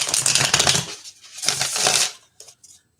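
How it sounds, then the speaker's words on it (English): A few quick bursts of tarot cards being riffled and shuffled, close and crisp, followed by a couple of softer taps as the deck settles. "let me shuffle here"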